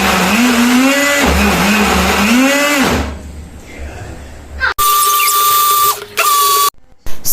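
A blender whirs loudly while blending cooked, softened carrots into soup, its motor pitch rising and dipping under load for about three seconds before cutting off, followed by quieter clattering and short bursts of a higher whine.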